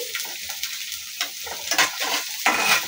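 Chopped onion and peanuts fry together in a pan, making a bright continuous sizzle broken by quick, close spatula stirs and scrapes.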